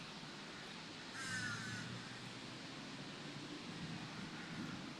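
Crows caw faintly in the distance among banana and fruit trees, a brief call rising over steady outdoor background noise and rustling.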